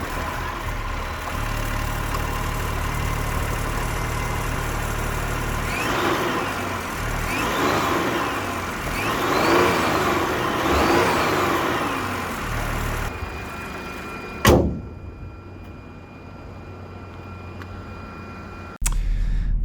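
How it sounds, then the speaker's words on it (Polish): A Fiat Grande Panda's 1.2 three-cylinder turbo hybrid engine runs with a steady, gravelly drone, swelling in a few gentle revs midway before settling back to a quieter idle. "Zrzęzi i terkocze, jak przystało na 3-cylindrowy silnik turbo"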